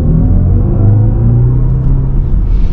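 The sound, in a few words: BMW iX M60i electric car sport mode sound effects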